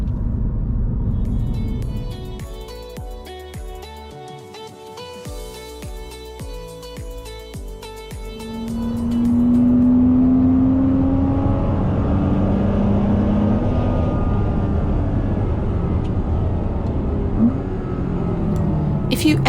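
A car downshifting while braking with heel-and-toe rev-matching: engine tones step and blip through the gear change, then a steadier rumble with a rising rev sweep.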